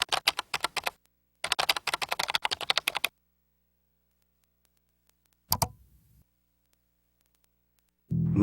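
Rapid typing on a computer keyboard, close and crisp, comes in two quick bursts of clustered keystrokes, then near silence broken by a single louder clack and a final thump.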